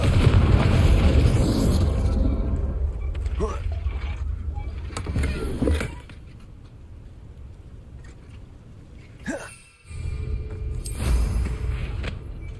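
Confringo explosive spell blast in the video game Hogwarts Legacy, a loud booming burst at the start that fades out, then a second thud and rumble near the end, with a voice speaking in between.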